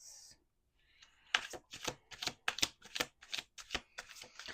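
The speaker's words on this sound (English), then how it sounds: "Two more shuffles." Tarot cards are shuffled by hand in a quiet room, a rapid series of crisp riffling snaps and flutters in quick bursts after a brief pause, close and distinct.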